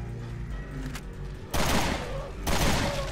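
Rapid gunfire bursts in the video game Resident Evil Revelations 2 raid mode, two loud dense volleys over a humming game soundtrack, with a lighter shot earlier.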